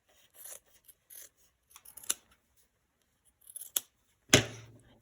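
Thick two-layer fabric being torn by hand for a junk journal board, heard as short rasping rips in separate bursts with pauses between, ending in one louder, longer tear, close and otherwise quiet.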